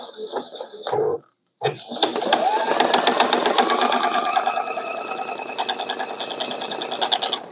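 A domestic sewing machine stitches through a quilt, running in a steady, rapid, buzzing rhythm close by. A short stretch of speech and a brief pause come before it.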